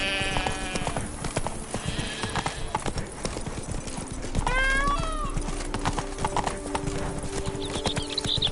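Horse hooves clip-clop in a quick, steady galloping rhythm in The Witcher 3 video game, fairly faint and mixed with game ambience, a brief whinny and other soft sounds.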